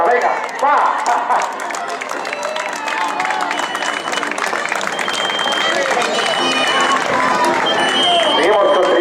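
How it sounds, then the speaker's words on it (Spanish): Applause and cheering at a popular town road race, scattered clapping and shouts from spectators along the course mixed with voices and commotion, moderately loud throughout. "Un aplauso para Pastora, venga, va."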